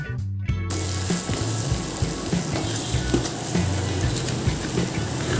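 Beef masala frying in a pan for beef fry, stirred now and then, a steady close sizzle with low scraping and clatter of the spoon throughout.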